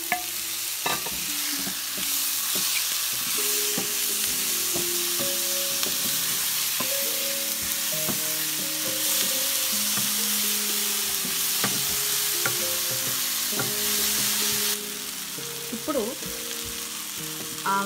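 Vegetables and tomato fry in a pan with a continuous loud sizzle, broken by repeated scraping stirs and clinks of a utensil against the pan.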